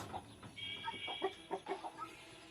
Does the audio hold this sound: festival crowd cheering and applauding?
no